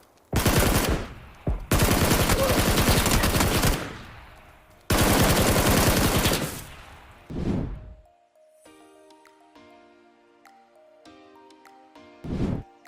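Bursts of automatic gunfire in the battle royale game PUBG, two long sustained sprays with a short burst between, then a brief burst and a final short burst over quieter game music.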